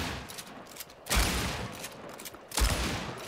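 Two heavy gunshot blasts, about a second and a half apart, from a shotgun in the video game Hunt: Showdown, each with a loud boom and a long rolling tail.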